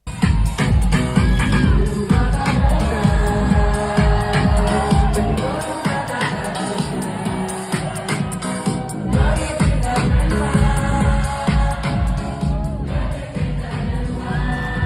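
A large concert crowd sings along to house music, a dense wall of many voices over a steady thumping beat with cheers rising throughout, loud and continuous.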